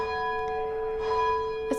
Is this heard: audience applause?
no